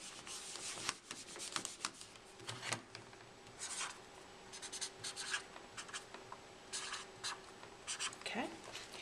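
Numbers are handwritten with a pen, giving scratchy strokes in short, irregular bursts across the whole stretch, close and fairly quiet, with a voice intermittently in the background.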